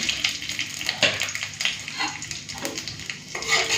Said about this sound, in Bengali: ফোড়ন দিয়ে দিচ্ছি শুকনো লঙ্কা, সর্ষে, মাছ ফোড়ন